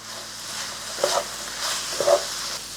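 Diced vegetables with onion, corn and garlic frying in a pan, a soft continuous sizzle broken by two brief stirring scrapes.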